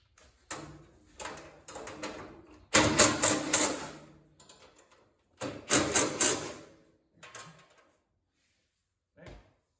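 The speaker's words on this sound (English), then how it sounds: "Tighten this last one with the ratchet wrench." Ratchet wrench tightening bolts on a 72-inch Grasshopper diesel mower, heard as bursts of rapid clicking in several separate runs with short pauses, close and fairly loud, ending with a faint single click.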